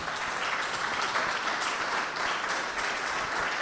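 Steady applause from an audience at a human rights event, a continuous even wash of many hands clapping, moderately distant and without voices.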